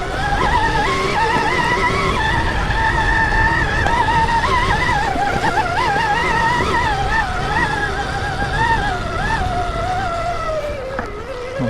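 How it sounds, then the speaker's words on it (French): A high, wavering electric motor whine from a Stark Varg EX electric dirt bike rises and falls steadily over a continuous rough rustling and crunching of riding through leaves. "j'ai jamais eu une moto qui tractait comme ça dans les feuilles"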